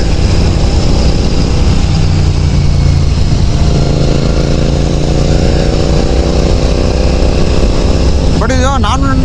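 Close, steady drone of a Benelli TNT 600i motorcycle engine, a non-ABS model with a BS3 engine, running continuously at a constant loud level, with a brief high whine near the end.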